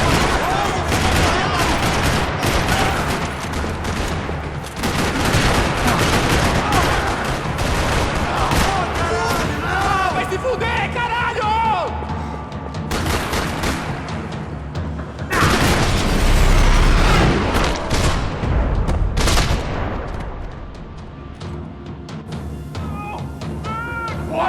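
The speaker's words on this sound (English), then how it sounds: "Another parking lot rattling with gunfire." Loud, sustained gunfire crackles in rapid bursts and volleys across a parking lot, with heavy booms mixed in. The shooting continues nearly nonstop with only brief lulls.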